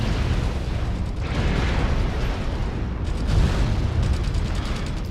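Weapon fire and explosions strike a mech in the MechWarrior Online video game, a dense, continuous barrage of booms and bursts rumbling at steady loudness throughout with no speech.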